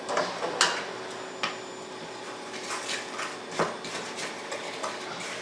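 White and brown sugar being stirred into an egg in a mixing bowl for apple nut bars, with scattered light clinks and scrapes of a utensil against the bowl at a moderate distance, no talking.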